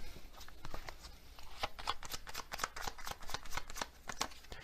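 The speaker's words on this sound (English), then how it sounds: "Let's get another one of these Hermit Tarot cards." Hermit Tarot cards are shuffled in a steady run of crisp, riffling flicks and slaps, close and fairly quiet, with no talk over them.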